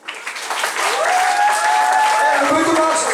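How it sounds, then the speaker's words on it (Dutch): Audience applause at a carnival session in a hall, a rising swell of crowd clapping with cheering and shouting voices over it, loud and close. "Hoor ik een daverend applaus voor Christel en Rico."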